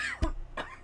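Two quick dry coughs from a person with a dry throat, close and fairly soft, the first sharper than the second.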